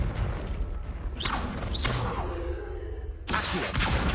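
Confringo fire spell from Hogwarts Legacy: whooshing magical bursts and a booming blast, two quick swishes followed by a rumbling impact, then another loud burst near the end, with no talk.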